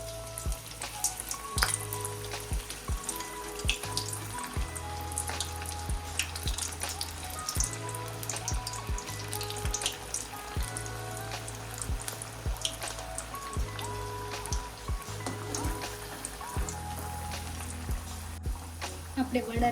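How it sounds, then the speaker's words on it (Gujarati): Methi bajri vadas frying in hot oil give a steady bubbling sizzle, with a low droning hum and occasional clinks underneath. "ચાલો આપણે તેને તળી લઈએ"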